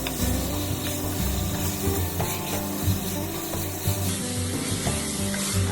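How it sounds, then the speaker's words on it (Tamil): Chicken sautés in oil in a pan for pepper chicken, giving a continuous close sizzle with rubbing, scraping stirring noises and no talking. "இந்த எண்ணெயிலே நல்லா வதங்கணும் சிக்கனு"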